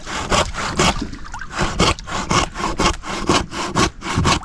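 Rhythmic back-and-forth sawing strokes of a waterproof saw cutting underwater in the sea, rasping and regular, muffled and watery in tone, repeating steadily with no talking.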